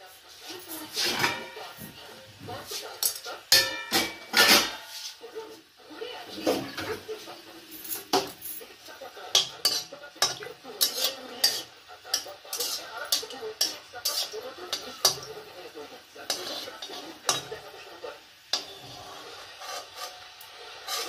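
Metal utensil clinking and scraping against a pan while two fried dry red chilies are lifted out of hot oil, with repeated sharp knocks and rattles scattered over about twenty seconds beneath a faint background hiss.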